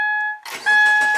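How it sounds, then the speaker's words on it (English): A Subaru Crosstrek engine cranks and starts, a burst of broadband mechanical noise cutting in about half a second along, while a steady electronic chime tone sounds before and through the start. "Start the car."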